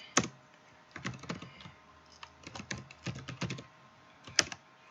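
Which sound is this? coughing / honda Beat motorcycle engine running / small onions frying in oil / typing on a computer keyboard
typing on a computer keyboard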